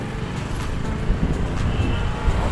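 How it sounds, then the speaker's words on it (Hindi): A motor vehicle drawing near on a road near Kanpur, a loud, steady engine and tyre rumble with traffic noise that swells slightly toward the end. "भैया आगे गाड़ी आ रही है, गाड़ी आ रही है"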